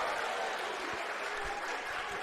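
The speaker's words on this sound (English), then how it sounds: "The crowd goes crazy." A crowd at a Brazilian jiu-jitsu match claps and cheers in a continuous roar that sounds somewhat distant, with a few thuds beneath the wash of noise.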